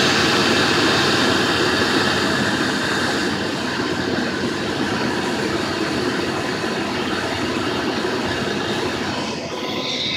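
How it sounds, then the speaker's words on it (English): A car engine idling during an alternator check, its alternator giving off a faint grinding from worn bearings, heard as a loud, steady mechanical drone throughout with no talking. "even though it's making a little grinding sound, which I think might be the bearings in it"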